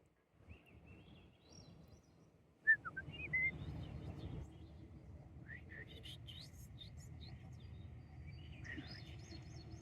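Birdsong outdoors near trees and water, with several short whistled chirps and trills at moderate distance over a steady low background rumble, faint at first and fuller from the third second on.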